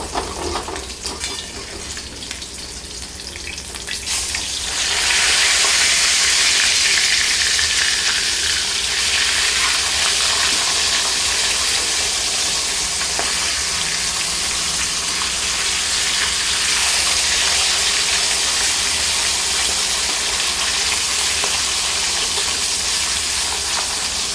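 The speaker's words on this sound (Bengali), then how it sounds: "মাছটা একদিকটা ভালো করে ভাজা হয়ে গেছে আমি পাল্টে নিব" Pieces of rohu fish sizzle steadily in hot oil in a pan, a loud continuous frying hiss that swells after a few seconds and holds without any voices.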